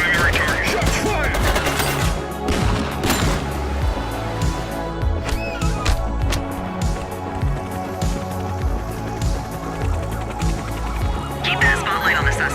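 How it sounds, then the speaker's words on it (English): Gunfire in the police video game The Precinct rattles in rapid repeated bursts over a dense background of game music and noise, with brief speech mixed in. "Shots fired!"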